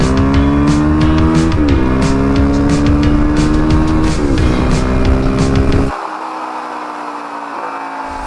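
A loud single-cylinder Suzuki DRZ400SM supermoto with an MRD exhaust drones steadily and shifts pitch through gear changes, then drops to a lower idle-like rumble near the end.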